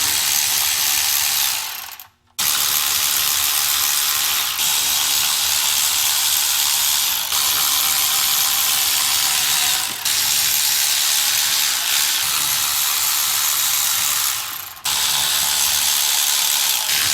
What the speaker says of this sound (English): start pulling the bolts off of the cover